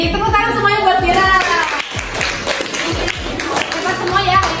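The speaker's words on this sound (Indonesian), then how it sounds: "tepuk tangan semuanya buat Vira." A classroom of students clapping hands together, a brisk scattered patter of claps under and after a teacher's voice, moderately loud and close.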